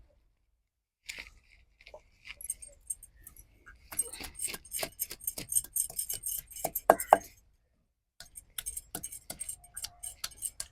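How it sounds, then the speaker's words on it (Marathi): Ginger, garlic and green chilies being crushed for a Koli-style clam masala paste: repeated close, sharp pounding knocks in irregular bursts, with a brief pause before a final run of hits, no talking. "आलं लसूण आणि मिरच्या आपल्याला ठेचून घ्यायचे मग वाटताना सोपं जाईल"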